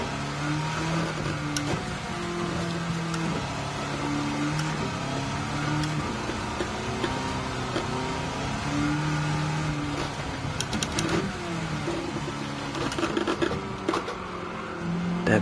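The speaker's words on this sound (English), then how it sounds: "LT5 Corvette." An LT5 Corvette engine in Gran Turismo 7 drones steadily at a buzzing, stepped pitch that rises and falls with gear changes, accompanied by faint clicks and ticks throughout.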